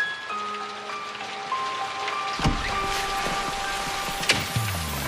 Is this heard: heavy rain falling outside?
yes